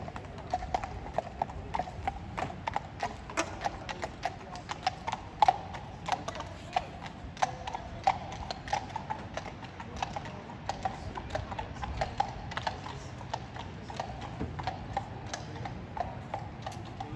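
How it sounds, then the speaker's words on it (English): Two police horses walk under a bridge at the Barbican, their hooves sounding as a steady run of sharp clip-clops on hard ground that echo a little, heard at a moderate distance for the whole stretch. "just passing under this bridge are two police officers on horses"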